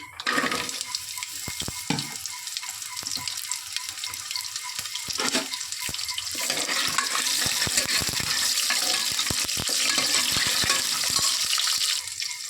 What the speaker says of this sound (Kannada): ಈಗ ಎಲ್ಲ ಸಿಡಿದಿದೆ ಇವಾಗ ತಿಂಡಿ ಬೀಜ ಹಾಕ್ಕೊತಾ ಇದ್ದೀನಿ